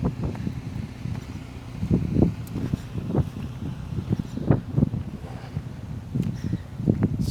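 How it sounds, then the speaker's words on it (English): Wind gusting across a Nevada cliffside trail, a low buffeting rumble against the microphone that swells and subsides in irregular gusts, steady throughout without talking. "It's pretty windy."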